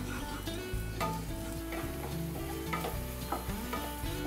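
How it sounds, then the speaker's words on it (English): Onions, ginger and garlic sauté in a pan under a soft steady sizzle, with repeated knocks and scrapes of a spoon stirring at an uneven rhythm. "So while your onions are being sauteed and we've added ginger and garlic"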